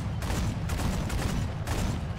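Rapid automatic anti-aircraft cannon fire from M42 Duster guns in War Thunder, a dense continuous fusillade of close, loud bursts with no pauses for reloading.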